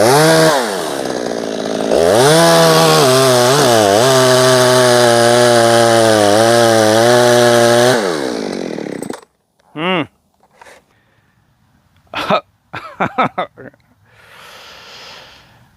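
A Poulan Super 380 chainsaw, rebuilt with JB Weld and suspected of having an air leak, runs loud and close for about nine seconds, with its revs dipping and surging. Afterwards the engine stops, followed by a few short knocks, breaths and handling sounds.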